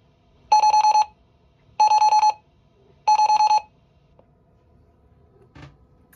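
Three identical electronic alarm bursts from Raymarine boat electronics signalling missing GPS data, each a loud, steady high-pitched tone about half a second long, evenly spaced, followed by quiet background and a small knock.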